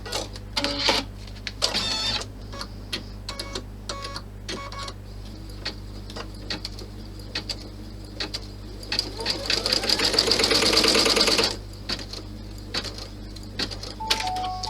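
An embroidery machine stitching a clutch bag design in the hoop, a steady mechanical whir with rapid needle clatter, growing louder and busier for a long stretch before it stops, with light clicks around it.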